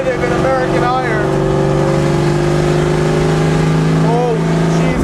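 A 1989 Ford Mustang race car from the American Iron class revs with a loud, rumbling engine note that rises and falls in pitch, heard up close along with a voice.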